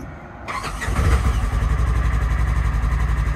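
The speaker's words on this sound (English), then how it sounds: "put it in park, start her up" A 2022 Polaris Ranger XP 1000 utility vehicle's engine cranks and catches, then settles into a steady, loud, throbbing idle close by.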